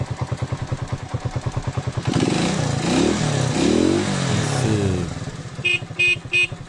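A motorcycle engine idles with a rapid, even putter close by, then revs up into a rising roar, and a horn toots in short bursts at the end.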